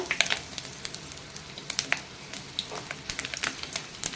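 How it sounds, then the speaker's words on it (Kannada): Capsicum pieces fry in hot oil, giving a steady close sizzle scattered with sharp pops and crackles, with no voices. "ಈಗ ಇದನ್ನು ಎಣ್ಣೆಯಲ್ಲಿ ನಾನು ಎಲ್ಲವನ್ನು ಈಗ ಫ್ರೈ ಮಾಡ್ಕೊತೀನಿ"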